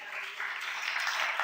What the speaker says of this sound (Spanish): ¿Puede darle un aplauso a Dios?